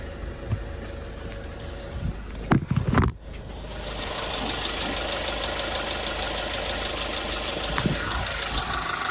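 A few knocks and clunks, then the engine of a Korean Porter 2 truck idles steadily with a low, even rumble and mechanical rattle, close by.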